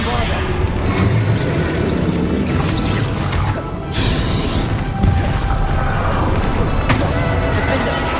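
A Bombarda spell goes off in Hogwarts Legacy, with dense, rumbling explosion noise and crashing debris over continuous game sound and a voice speaking.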